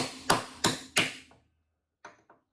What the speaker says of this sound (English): now we're going to put the chisel above it on the chassis and send it home